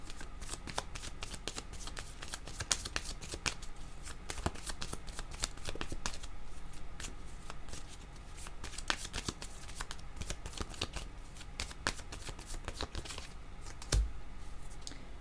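Tarot cards being shuffled by hand, a dense, continuous riffling and slapping of cards up close with quick, irregular crisp clicks throughout.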